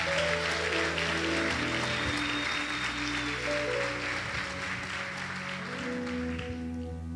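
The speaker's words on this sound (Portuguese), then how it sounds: "Você pode aplaudi-lo ou faça com alegria." Applause from a congregation during a Sunday-night church service, a steady wash of clapping mixed with sustained music playing underneath, fairly distant and even throughout.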